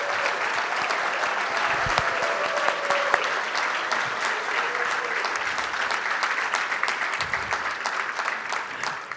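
A school district audience gives sustained applause for support staff award winners, steady, dense clapping that carries on for several seconds without talk over it.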